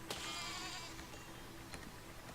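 Sheep bleat in the physics building game Besiege, a faint, thin animal cry over quiet background noise with no talk.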